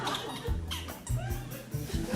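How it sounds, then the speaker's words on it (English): A squeaky chair creaks in several short, repeated squeals with a rhythmic back-and-forth pattern, close and fairly quiet in an indoor room. "got a bit of a squeaky chair."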